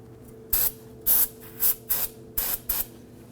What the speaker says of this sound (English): Sometimes you can spray it down with some solvent